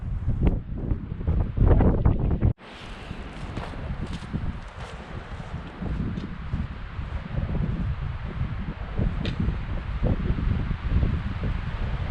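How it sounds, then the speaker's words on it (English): Steady wind blowing into an outdoor microphone at Heather Lake, Sequoia National Park, California, a constant rushing roar with gusty rumbles and faint rustling, no voices. "It's so windy and cold here"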